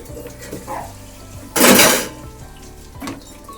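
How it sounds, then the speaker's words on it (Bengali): A metal lid clanks down onto a cooking pot of banana flower curry with meat, one loud scraping clatter amid softer kitchen clinks and faint sizzling before and after. "এটাকে কিছুক্ষণের জন্য একটু ঢেকে দিচ্ছি"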